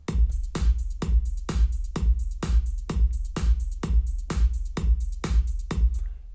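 Electronic percussion loop built from a steady kick-like thump, closed hi-hat ticks and claps, repeating about every half second in an even, shuffling pattern, with no bass line and no talking.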